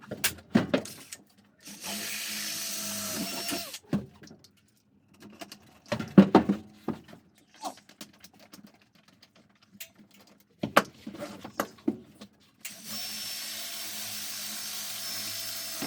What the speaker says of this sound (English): We're drilling straight through, so it's going to bolt through the whole roof wall.